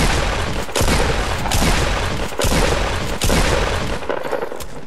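Rapid bursts of pump shotgun fire in Fortnite, several loud, booming blasts in quick succession with brief gaps between them, dense and close throughout.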